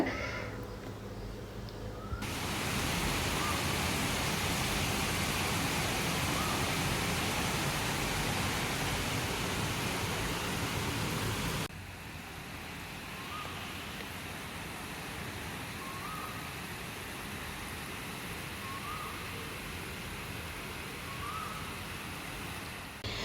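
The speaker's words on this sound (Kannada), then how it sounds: "ಸಂಜೆ ಸಮಯ ಯಾವ ಥರ ಮಳೆ ಬರ್ತಾ ಇದೆ ನೋಡಿ" Steady evening rain in Bengaluru hisses throughout, heavier at first and then easing to a softer patter, with faint bird calls in the distance.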